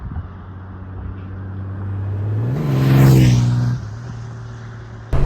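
A 2024 Honda Goldwing Tour with DCT transmission accelerating in sport mode, the engine note rising and swelling to a loud peak before dropping back, heard close under steady wind rush.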